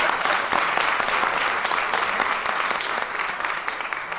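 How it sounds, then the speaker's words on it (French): Audience at a French-language award ceremony, the Gaston-Miron excellence prizes, applauding steadily with a dense, even wash of many hands clapping throughout, fairly close and sustained. "On peut les applaudir."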